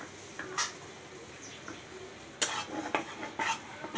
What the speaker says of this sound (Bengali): আমি এখন এই বাটারের ভিতরে দুই চা চামচ ময়দা আছে এটা আমি আগে ভেজে নিব